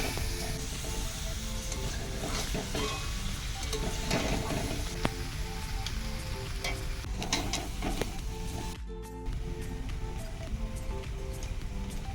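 Luchi, a Bengali puffed flatbread, frying in hot oil on a gas stove, giving a steady, close sizzling hiss that runs unbroken through the whole stretch.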